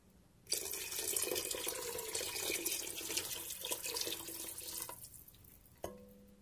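Water gushing from a kitchen tap into a measuring cup, a steady close splashing stream lasting several seconds before it is shut off, ending with a few drips.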